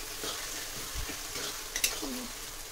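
Onions frying in a large pan for a big batch of chicken biryani give a steady soft sizzle, with a few stirring scrapes and clinks close by.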